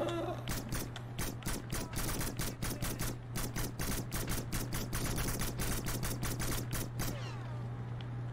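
Video game gunfire in rapid, evenly spaced bursts, with crisp, loud mechanical shots clattering over a steady low hum and no talking.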